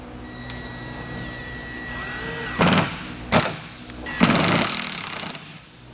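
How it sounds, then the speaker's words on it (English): A power driver sinks self-tapping screws to fasten a part of a Malone MegaSport two-tier boat trailer during assembly. Three loud, close whirring bursts come in quick succession, the last one longer. "we'll use the self-tapping screws that are included to get that fastened"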